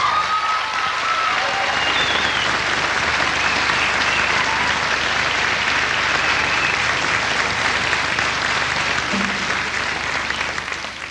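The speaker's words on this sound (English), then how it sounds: "Let's give them a clap." Sustained audience applause for a children's performance by 9- and 10-year-old singers, a dense, steady clapping from a hall full of people lasting the whole stretch at even loudness.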